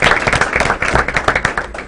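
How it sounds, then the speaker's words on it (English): Loud, close applause from the audience at a school Board of Education meeting, with dense rapid clapping that keeps up throughout the short burst. "let's give them a round of applause for"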